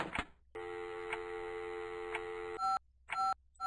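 Telephone keypad tones in a phone-booth escape video game, a sustained dial tone cut off by a click, followed by short separate dialing beeps with silent gaps between them, clear and close.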